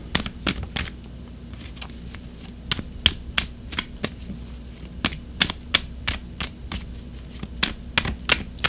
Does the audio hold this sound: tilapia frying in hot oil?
no